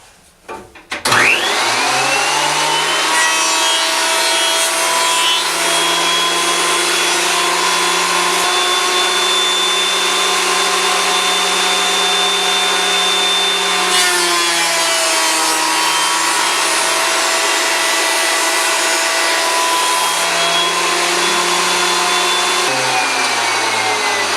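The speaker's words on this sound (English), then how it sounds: "them on the planer just to dress them down to their final dimension and smooth them out" A thickness planer dresses wooden boards for an Adirondack guideboat down to final dimension, a loud continuous whine and roar that starts up sharply and holds steady, with pitch shifts as each board feeds through.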